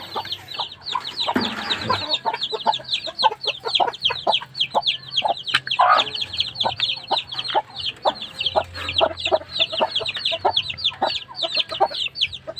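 Aseel chickens cluck in rapid, repeated chirpy bursts close by, with overlapping calls from several birds and a brief louder squawk early on.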